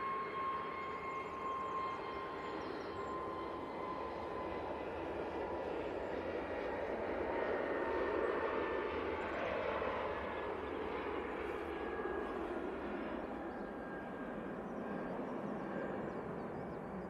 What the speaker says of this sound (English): Easyjet A320 Neo on the roll